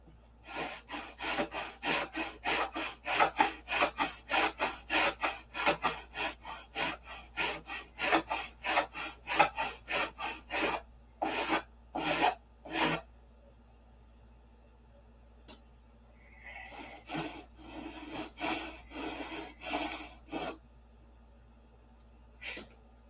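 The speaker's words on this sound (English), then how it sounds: "I'm starting to file this from back here, not over here" A file and sandpaper working over a P-47 model airplane, giving a long run of quick rhythmic rasping strokes up close, with a few slower strokes and a softer stretch of scraping near the end.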